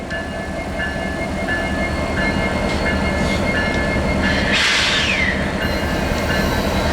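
A freight train rolls along the tracks near Ludlow, California with a loud, continuous rumble and steady rhythmic wheel clicking, plus a brief wheel squeal partway through.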